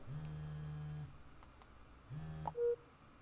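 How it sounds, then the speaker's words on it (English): Telephone ringing in the indie video game Marie's Room, two electronic ring bursts separated by a pause, followed by a short beep, quiet and alone. "Guess I have to answer the phone."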